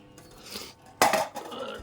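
A metal plate set down over a cooking pot as a lid: one sharp clanking contact of metal on metal, near and distinct, with faint rustling before and after.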